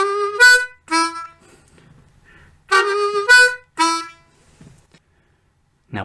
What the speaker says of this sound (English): 3 draw, semitone bend, 4 draw, 2 draw, and it goes like this.